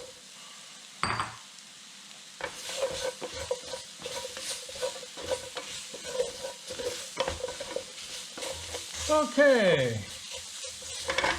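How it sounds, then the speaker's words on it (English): Carrots sizzle in a hot pan while being stirred, with scraping and knocking utensil strokes over a crackling fry; one brief word is spoken near the start. "I'm going to add the carrots."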